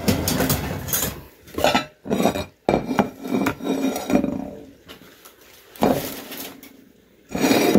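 A spatula scrapes and cuts through lasagna in a pan, with irregular close metallic scraping, rubbing and clinks in bursts separated by brief pauses.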